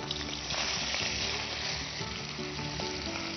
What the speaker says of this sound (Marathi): आता आपण ते तेलामध्ये परतून घ्यायचंय.